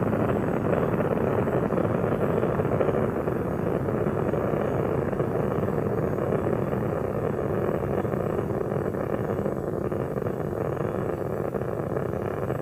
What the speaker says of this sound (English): 3 engines on board now throttled down to 2/3 throttle to prepare the spacecraft to pass the area